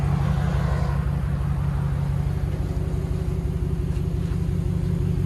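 A Ram 1500 single-cab pickup with a 5.7-liter HEMI V8 and the muffler deleted idles with a deep, steady, loud rumble, a continuous low throb with no pauses and no voices.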